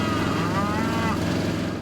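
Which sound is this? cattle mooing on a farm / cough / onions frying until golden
cattle mooing on a farm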